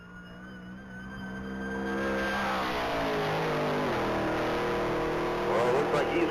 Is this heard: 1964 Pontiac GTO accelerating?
yes